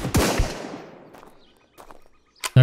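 Gunfire in the survival shooter Road to Vostok: a loud doubled pistol shot opens, echoing away over about a second, then fainter distant reports and another sharp close shot at the end, with no talking.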